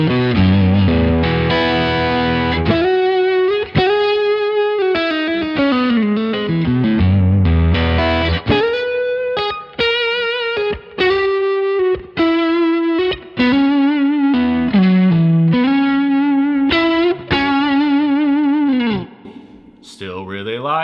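An electric guitar played through a Neural DSP amp plugin, with chorus and slight distortion, runs through bluesy single-note lines, bends and vibrato with brief pauses, close and prominent with no voice over it.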